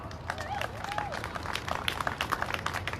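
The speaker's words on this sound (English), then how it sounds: "Can we give it up for Corey Jones" Rally crowd applauds during a Black Lives Matter observance, a moderate patter of many hands clapping continuously for a few seconds, with a brief whoop and faint voices mixed in.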